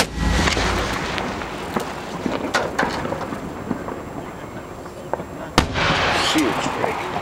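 Fireworks set off by a pyro crew at Port Orchard's 2013 show, heard as a rapid series of sharp cracks and booms over a rumbling crackle, with people talking nearby.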